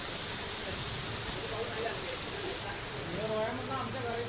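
Heavy unseasonal rain pours down in Kolhapur, a constant broadband wash of falling water heard throughout while a voice talks over it.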